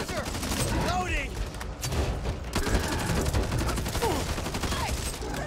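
Rapid bursts of gunfire from the zombie shooter Back 4 Blood fill the scene, dense overlapping shots and automatic fire continuing steadily and loudly with occasional voices mixed in.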